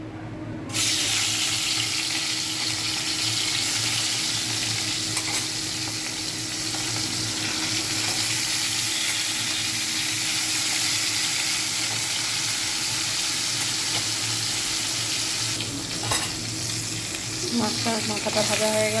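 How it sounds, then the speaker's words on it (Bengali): A hilsa fish head fries in hot oil in a wok, giving a close, continuous sizzle that stays steady and loud from start to finish. "মাথাটা ভাজা হয়ে গেল।"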